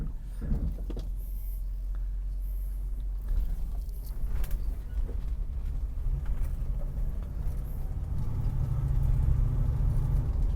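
A 1969 Ford Mustang engine runs steadily while the car drives, a low rumbling hum heard from inside with road noise, gradually building and growing a little louder toward the end.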